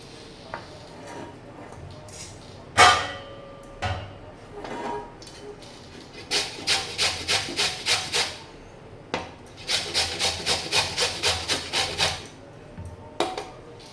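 Peeled raw mango grated by hand for sweet mango preserve, loud rhythmic rasping strokes in quick bursts of about ten, with a few scattered knocks and scrapes between them, close and without talk.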